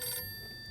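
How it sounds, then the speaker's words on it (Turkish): A telephone rings briefly in the video game 60 Seconds! Reatomized: a short, faint electronic bell tone with steady high pitches, heard alone. "A, telefon çalıyor."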